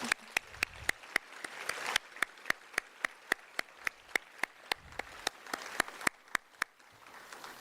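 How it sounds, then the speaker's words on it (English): Sparse, evenly spaced claps ring out at a university welcome ceremony, sharp distinct hits repeating in a steady rhythm at low level rather than a dense ovation, fading out near the end. "let's give a round of applause for that"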